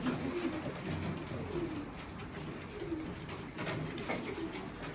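A Bukhara pigeon imported from Hungary coos softly in repeated low, throaty calls over a faint background hiss, with no talking.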